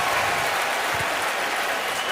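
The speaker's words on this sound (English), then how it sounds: "Crowd loves that." A football stadium crowd applauds and cheers in a steady, loud wash of clapping and roar at a 2014 NFL preseason game between the Browns and Redskins.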